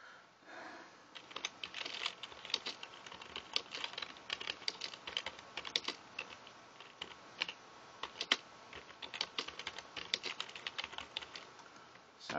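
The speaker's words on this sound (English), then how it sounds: "one finger typing" Single-finger typing on a computer keyboard: sparse, uneven key clicks tapping at an irregular hunt-and-peck pace, fairly close and soft, with no talking.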